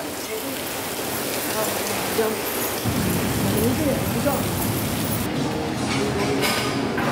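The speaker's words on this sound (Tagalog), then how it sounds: "Grabe yung ulan." Steady, dense rain hisses across the whole scene, growing heavier partway through, with a constant broadband wash and no clear voices.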